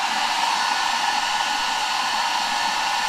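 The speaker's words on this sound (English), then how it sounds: "So let's also connect this hair dryer." A hair dryer powered by a portable power station blows with a steady, loud, even whoosh, running alone without a break.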